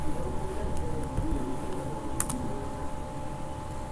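Keystrokes on a computer keyboard while typing text into Notepad on a Windows PC, a few scattered soft clicks over steady low background hum, no speech.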